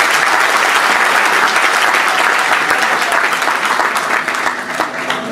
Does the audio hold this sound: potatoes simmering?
no